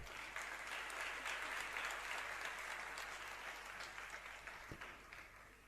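An audience at a Jain religious sermon in Shirpur, Washim, Maharashtra breaks into sustained applause, fairly distant and faint, slowly tapering toward the end.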